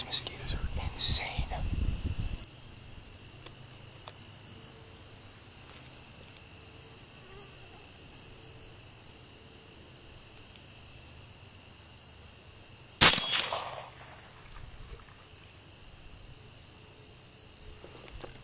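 A steady, high-pitched chorus of crickets chirring without pause, with a couple of brief louder rustles near the start and again partway through.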